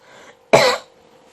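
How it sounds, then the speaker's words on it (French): One sharp, loud cough from a woman with a dusty throat, close to the microphone, bursting out after a moment of quiet room tone. "Je vais tousser"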